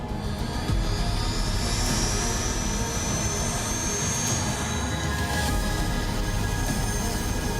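Loud, continuous roar of an Indian Air Force Chinook heavy-lift helicopter's engines and rotors, with a high whining turbine tone over a deep rumble.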